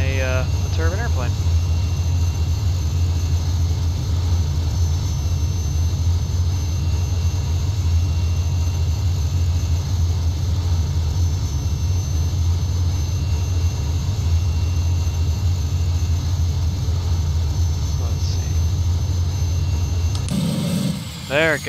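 A Cessna 206 floatplane's turbine engine runs steadily and loud at close range, a constant deep drone with high whine, before winding down at the end just ahead of an engine fire.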